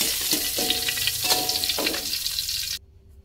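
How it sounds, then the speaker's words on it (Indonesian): Ingredients for a peanut sambal sauce sizzle and fry in a pan, a steady crackling hiss broken by several scraping stirs, then cutting off abruptly. "Goreng sampai layu, sampai matang."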